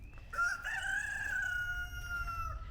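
A backyard rooster crows once, close and loud, in a long drawn-out call lasting over two seconds, against a low rumble of background noise.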